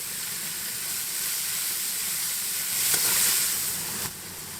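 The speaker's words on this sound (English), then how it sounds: "Then the vegetables go in, putting those which I imagine will take longest to cook first." Carrots, capsicum, onion and broccoli frying in a hot pan give off a loud, steady sizzling hiss up close, rising slightly near the end before dropping off abruptly, with no voices.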